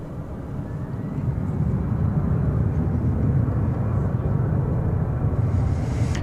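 An airliner on runway 18 left at DFW Airport produces a deep, steady roar that swells within the first couple of seconds and then holds, loud and broad, throughout.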